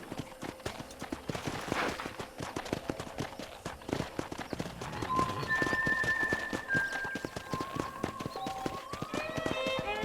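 Horse hooves clop at a steady riding pace in Red Dead Redemption, near and rhythmic, with game music rising in the background.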